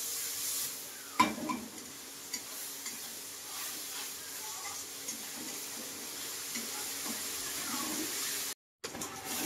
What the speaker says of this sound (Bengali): আদা রসুন বাটা দিয়ে দিলাম, দিয়ে খুব সুন্দর করে আমি নেড়ে ছেড়ে কষিয়ে নেব